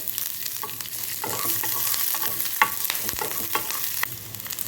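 Ginger and green chilies fry with lentils, cumin and mustard seeds in hot oil, a close, continuous crackling sizzle with scattered clicks of stirring and no voices.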